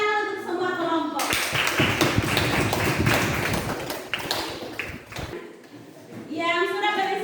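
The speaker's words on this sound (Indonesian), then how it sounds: "Tepuk tangan untuk semua kelompok." A class of students applauds all the presentation groups, a dense burst of clapping lasting several seconds between a teacher's spoken remarks.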